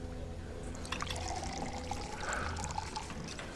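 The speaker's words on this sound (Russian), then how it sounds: "налей-ка мне двойную" A double drink being poured into a glass: a short liquid pour with splashing, trickling and small drips, close and moderately loud, with no speech.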